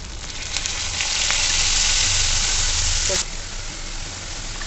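Ground cumin, coriander and chilli powder sizzling steadily as they are sautéed in a pan for a jackfruit cutlet, a loud, continuous close frying hiss that rises slightly and then eases.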